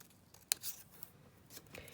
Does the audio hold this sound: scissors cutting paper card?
yes